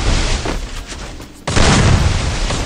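AWM sniper rifle shot in a shooting video game, a loud sudden boom that cuts through the ambience and rolls off into a heavy rumbling tail, no talking.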